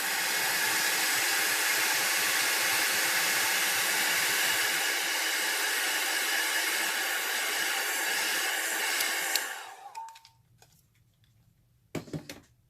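A hair dryer blows steadily on an alcohol ink flower painting, a loud constant whoosh that cuts off near the end, leaving quiet with a few faint knocks.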